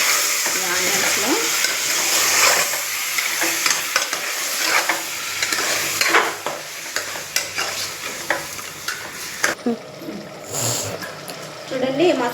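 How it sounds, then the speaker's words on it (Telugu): Over half a kilo of mutton is stirred into frying onions for kuska with mutton curry, giving a steady loud sizzle with repeated scraping stir strokes and a brief splash of water near the end. "ఇప్పుడు ఈ మటన్ని బాగా మిక్స్ చేద్దామండి ఈ ఆనియన్స్లో"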